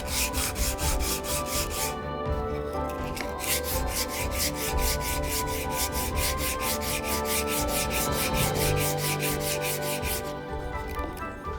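Steady hand sanding of wooden tray parts with 120- to 220-grit sandpaper, rapid rhythmic back-and-forth strokes, close and fairly loud, continuing without pause and with no talking.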